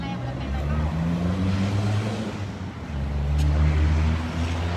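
A car pulls away and accelerates, its deep engine hum rising and swelling in two surges, heard close, with voices talking over it.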